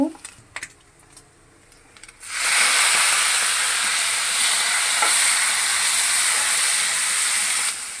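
After a couple of seconds of quiet with a few clicks, vegetable bhaji hits a hot pan and bursts into a loud, dense, hissing sizzle that holds steady to the end.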